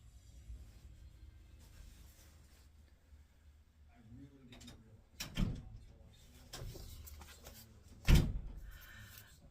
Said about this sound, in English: came in and shut my door tight